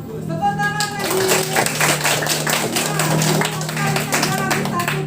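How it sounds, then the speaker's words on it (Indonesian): Children in a primary school classroom clap together, a steady dense patter of hands running throughout, with a teacher's voice and tonal speech rising over it near the start and end. "Bagus, tepuk tangan lagi."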